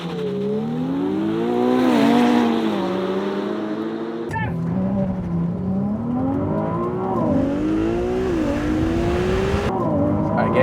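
A Ferrari 488 Pista and a 296 GTB launch side by side in a drag race, engines rising through gear-change steps with loud, layered roaring and a sharp shift jolt midway, while people talk over the run.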